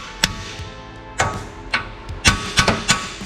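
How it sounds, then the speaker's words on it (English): Hammer blows smacking the ear of a steering spindle to break loose a rusted outer tie rod on a Fox Body with a 7.3L Godzilla swap; seven sharp metallic strikes in an irregular rhythm, close and loud, with no talk. "We'll smack the ear of the spindle"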